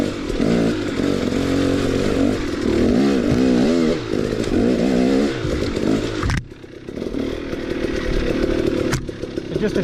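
A motorcycle fitted with a Lectron carburetor revs and rides nearby, its loud engine rising and falling through several throttle surges before dropping to a lower, steadier run.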